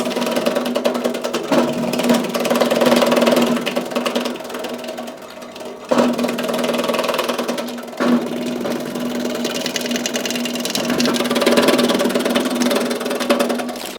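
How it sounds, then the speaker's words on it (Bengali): An automatic vegetable cutter machine runs with its motor-driven roller spinning as potatoes are fed in, giving a steady close mechanical hum and whir with brief dips and restarts. "আমি এখন পাওয়ার সুইচটা অন করে দিচ্ছি দেখুন আমাদের মেশিনটি কিন্তু অন হয়ে গেছে এবং ভিতরে যে মোটরের মাধ্যমে রোলারটি আছে সেটি ঘোরা শুরু করেছে"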